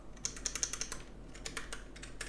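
Key presses on a Rampage KB-R24 X-Mini RGB mechanical keyboard, a quick irregular run of crisp close clicks and clacks typed alone over a quiet background.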